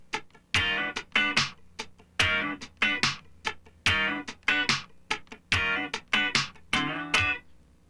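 Syncopated funk rhythm guitar with the fretting hand lifted on the third sixteenth, giving crisp, clipped chord stabs and muted scratches in a tight, repeating groove, close and alone.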